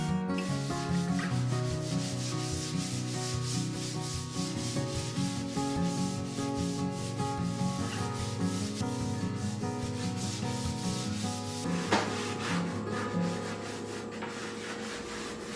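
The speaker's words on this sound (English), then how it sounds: "going to lightly sand the piece" Light hand sanding across an oak farmhouse-style kitchen island, a continuous close rubbing and scraping rhythm of back-and-forth strokes with no talking.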